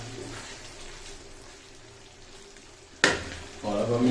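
Daal mash lentils cooking down in a pan simmer with a soft, steady sizzle as the water dries off, then a sharp clatter lands and a louder, bubbling fry swells up.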